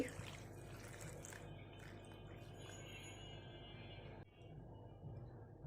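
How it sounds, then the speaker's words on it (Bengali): Four cups of water pour and trickle into a container with a steady liquid rush, then a short break and softer splashing, without talking. "দিয়ে দিচ্ছি মেজারমেন্ট কাপের চার কাপ"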